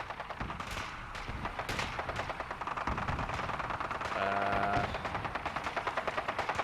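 Gunfire from the battle at Bunker Hill in Fallout 4: fairly faint, steady bursts of rapid shots with thumps and distant blasts, continuing throughout.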